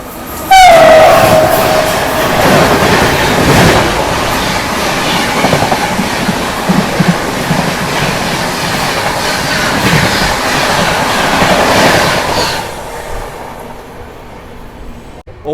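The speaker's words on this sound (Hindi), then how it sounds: "ये लो भाई साहब आ गई नई दिल्ली अमृतसर शताब्दी।" The New Delhi–Amritsar Shatabdi roars past on the adjacent track during a crossing at speed, opening with a brief horn blast and then a sustained loud rush of wheels and carriages that cuts off abruptly near the end.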